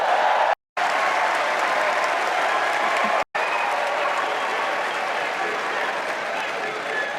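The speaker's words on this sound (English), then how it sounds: "Let's give a special round of applause to our First Lady" A large rally crowd gives First Lady Jill Biden sustained, roaring applause mixed with cheering, broken by two brief dropouts into silence.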